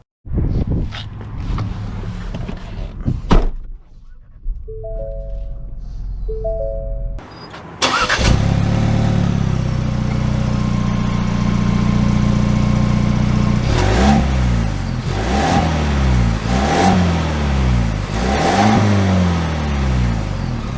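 A 2021 Ford Bronco Big Bend soft top with the 2.3 EcoBoost engine cranks and fires, settles into a loud idle, then revs up through several rising acceleration sweeps, heard from inside the cabin.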